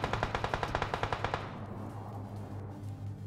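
Automatic weapon fire in the shooter game PUBG Mobile, a rapid burst of evenly spaced shots for about a second and a half, then fading to a quieter rumbling background, no speech.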